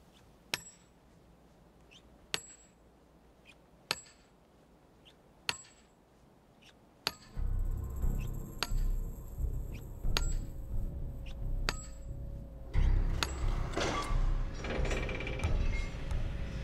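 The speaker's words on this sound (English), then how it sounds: "there's just that ring, and also you can feel it in the handle of the hammer" A mason's hammer striking stone at Rosslyn Chapel: sharp ringing taps spaced a second or two apart, first against a quiet background, then continuing under a louder, busy rumble of workshop noise, with no one speaking.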